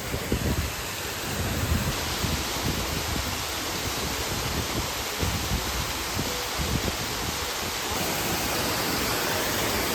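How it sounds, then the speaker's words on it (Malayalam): Small Karimutty waterfall in Kanthaloor, Kerala, flowing among rocks: a steady broadband rush of falling water holds unbroken for the whole stretch, fairly loud and close, with no voices. "കരിമുട്ടി എന്ന് പറഞ്ഞ ഒരു വെള്ളച്ചാട്ടമാണ് ഈ കാണുന്നത്."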